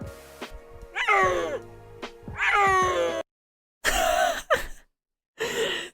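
A small wild cat lets out several loud, close, drawn-out meowing calls with rising and falling pitch, separated by short silent pauses.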